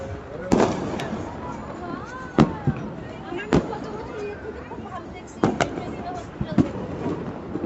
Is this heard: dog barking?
no